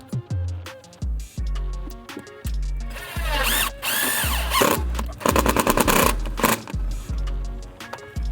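A power drill drives screws to anchor PermTrack lighting track for a Govee permanent lighting install, with bursts of whirring at the middle and near the end over a steady, rhythmic music bed.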